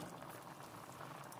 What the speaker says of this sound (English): And now that we have it up to a boil